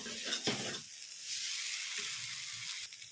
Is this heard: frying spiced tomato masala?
yes